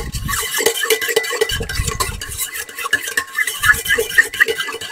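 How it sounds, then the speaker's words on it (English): Dough whisk mixing yeast in a bowl of liquid for French bread, giving a steady swishing, scraping stir with repeated strokes against the bowl, fairly close and continuous. "I'm going to use my dough whisk."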